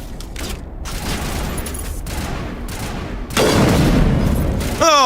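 Heavy sniper rifle fire rings out in the sci-fi shooter Mass Effect amid booming combat noise and mechanical clanks, with loud blasts swelling toward the end.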